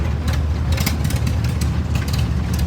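A 1924 John Deere Model D tractor engine running steadily at a parade, a low, loud, continuous chugging throb with a slow, even rhythm.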